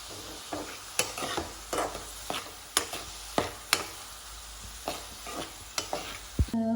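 Onion and masala sautéing in a pan, with a steady low sizzle broken by repeated sharp scrapes and clicks of a spoon stirring, close and moderately loud with no voices.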